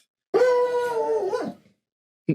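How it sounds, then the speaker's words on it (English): A dog lets out one close, loud, drawn-out whimpering howl lasting about a second, and a short second yelp follows after a brief silence. "My dog's excited."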